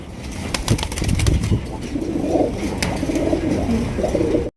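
A pair of domestic pigeons offered for sale, cooing in low repeated murmurs close by, with light rustling and bird activity filling the short stretch.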